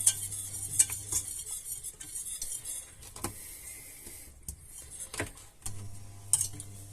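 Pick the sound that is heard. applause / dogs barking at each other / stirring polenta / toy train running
stirring polenta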